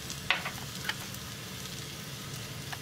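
Onion, potato and spices, including coriander powder, chilli and turmeric, sauté in a pan over medium heat with a steady soft sizzle and a few light stirring clicks. The sound is close and quiet, with no voices.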